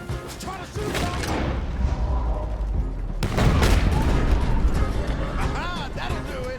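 Enemies blocking a road in Red Dead Redemption 2 open fire, producing a rapid volley of gunshots and heavy bangs, with a loud burst after a brief lull, under raised voices.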